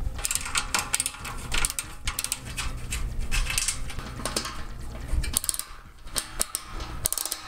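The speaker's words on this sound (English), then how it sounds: "all you need to do is take these four bolts out" A ratchet wrench loosening bolts on a satellite dish bracket, clicking in quick, uneven bursts with metallic gear rattles, close and fairly quiet, pausing briefly near the end.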